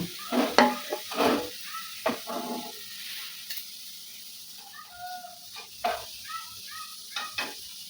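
Scraping stirs and light crackling of frying food in a pan, with a few irregular clatters and soft sizzle in between.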